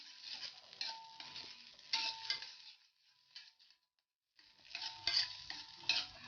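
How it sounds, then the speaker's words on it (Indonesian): Butter sizzles as it heats in a frying pan for Korean egg fried rice, a bright crackling hiss in two bursts separated by a quiet pause, with faint scraping of a utensil and no talking. "pertama-tama kita panaskan menteganya ya"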